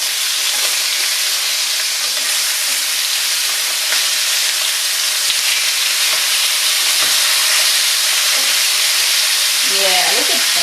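Lamb chops sizzling hard in a hot pan just after being turned, a loud dense hiss of spattering fat that holds steady throughout, close up, with a voice briefly heard near the end.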